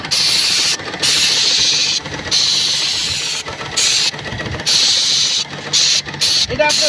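A spray machine coats a rusty tin roof with a loud, steady hissing rush, broken by short pauses where the spray stops and restarts.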